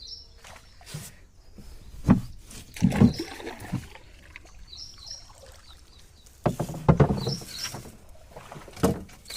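A small wobbly rowboat on a tidal creek near Alibag while crab nets are cast, with close knocks, thumps and water sloshes in uneven bursts; faint high chirps sit in the background.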